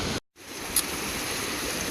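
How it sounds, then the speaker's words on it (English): Waterfall on Hamilton Creek along the High Sierra Trail in the Sierra Nevada: a steady, full rushing roar of falling water, close and continuous, briefly cut out near the start, then resumes unbroken. "So this is the waterfall I saw before"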